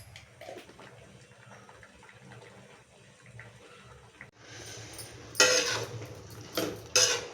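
Chunks of elephant yam dropped into a pan of water: quiet kitchen clatter at first, then a few loud bursts of splashing and water noise near the end, close by and with no talk.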